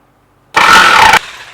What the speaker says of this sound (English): battery operated jigsaw.